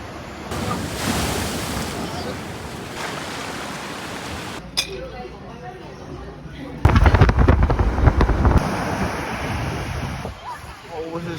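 Ocean waves crashing on Diamond Beach in Japan, a loud, continuous roar of surf with strong wind buffeting the microphone and surges growing heavier in the later seconds.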